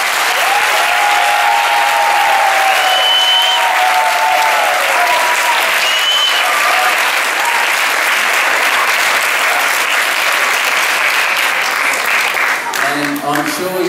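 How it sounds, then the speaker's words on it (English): A school audience applauds Year 1 students at a Halloween event, dense sustained clapping from a large crowd with a few cheers, fading slightly toward the end. "So please give our Year 1s another big round of applause."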